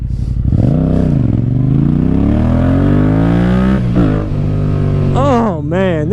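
A Yamaha MT-07 motorcycle engine revs loudly and close up, its pitch climbing and falling in repeated swells, with quick sharp blips of the throttle toward the end.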